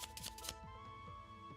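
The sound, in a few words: shuffling a deck of trading cards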